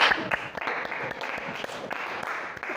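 Steady applause from a classroom group after a student group's sociology presentation, dense clapping filling the room evenly for a few seconds with no voices on top.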